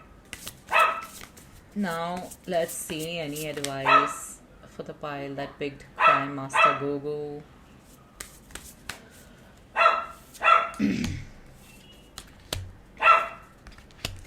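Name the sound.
dog barking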